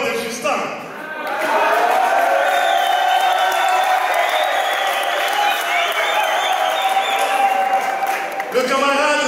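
A large crowd at a political meeting breaks into sustained applause and cheering with whoops, starting after a brief pause and staying loud and steady to the end.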